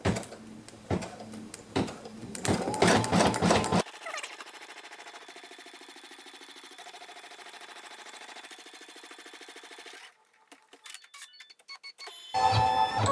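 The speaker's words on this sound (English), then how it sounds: "we're just going to start the basting stitch" A sewing machine runs a basting stitch on a pillow cover, fast mechanical rattling at the start, then a quieter steady hum, a brief pause, and the rattling again at the end.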